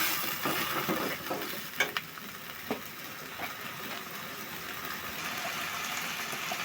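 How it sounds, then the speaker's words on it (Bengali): Beef for rezala, salted and stir-fried in a pan, giving a steady close sizzle with occasional scraping and stirring knocks. "এখন আমি এটা ভালো করে কষাই নিব।"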